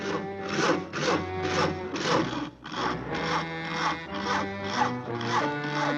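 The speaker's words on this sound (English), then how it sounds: "Isn't that your house Harry is sawing on?" Rhythmic back-and-forth rasping of a saw cutting into the wood of a house, steady strokes about every half second, close and fairly loud with no talking.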